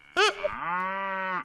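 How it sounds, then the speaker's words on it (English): A cow gives a single long, loud moo, close and clear, as a sound clue in a game-show sketch from an animated comedy. "A cow."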